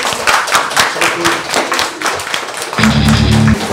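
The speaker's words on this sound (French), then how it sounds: "Vous applaudissez quand même pour tous les cadeaux." Children at a kids' magic show on a radio broadcast clap in a burst of scattered applause, fairly loud and close, with a steady musical tone entering near the end.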